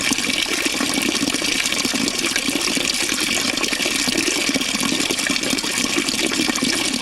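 Water of a cold spring-fed pool, a steady close wash of running, splashing water that fills the whole stretch without pause and with no voices.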